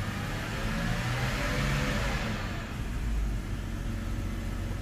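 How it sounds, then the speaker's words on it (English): A BMW N52 car engine runs steadily at raised revs, held near 3000 RPM, giving a continuous close mid-pitched hum and rumble with no voices over it. "On idle and RPM is up to 3000 RPM, doesn't feel like it's misfiring."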